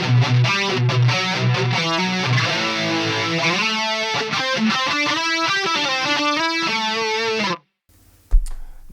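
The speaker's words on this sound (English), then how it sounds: "Chorus in the FX loop sounds like this." Distorted electric guitar through a Soldano lead channel with chorus placed in the effects loop, boosted by a grinder-style pedal, playing a loud continuous riff for about seven seconds before stopping, followed by a brief knock.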